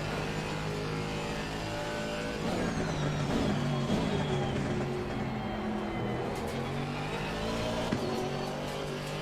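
Aston Martin AMR V8 race car in Assetto Corsa Competizione at Kyalami, engine holding a loud, steady drone with pitch rising and falling through gear changes and corners, plus brief tire squeal near the end, no talk over it.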